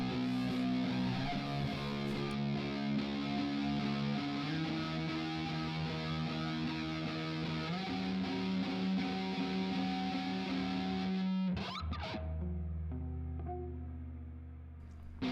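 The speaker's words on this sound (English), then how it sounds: "this is what it's supposed to sound like with the distortion and the tremolator" Electric guitar played through a ProCo Rat distortion pedal and a tremolator, sustained thick overdriven chords in a loud steady wall of fuzz that cuts off near the end to a quieter ringing decay.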